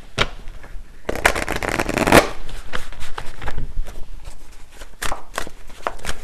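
Tarot cards are shuffled close up, with a dense burst of riffling in the first seconds followed by scattered soft slaps and taps as cards are handled and laid down.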